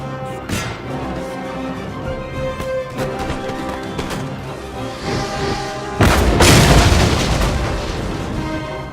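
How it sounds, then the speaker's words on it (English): Cannons firing in the Napoleon Total War game, a siege of Toulon: a string of muffled booms over battle ambience, ending in a much louder, closer blast that lingers. "right-click your mouse to order your cannons to attack."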